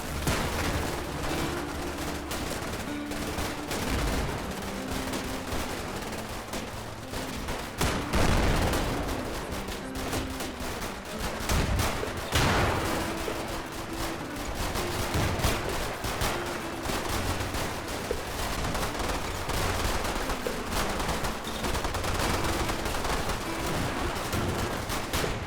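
A tank and infantry battle in the wartime game Combat Mission Final Blitzkrieg, with a Marder III tank destroyer firing on a Cromwell tank: a dense, continuous rattle of gunfire and machine-gun bursts, with heavier booms rising now and then.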